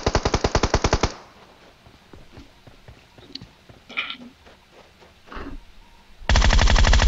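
Groza assault rifle fire in PUBG Mobile: a rapid full-auto burst, a quieter gap with scattered shots and footstep-like taps, then a second loud sustained burst.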